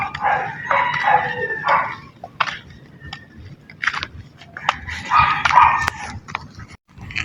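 Several dogs bark and yip in short irregular bursts, fairly close, with brief quieter gaps between outbursts.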